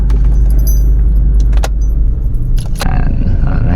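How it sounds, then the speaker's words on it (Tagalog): A car engine idles with a loud, low rumble as it is switched off, while keys jingle and clink in short bursts close by. "papatayin natin tong makina."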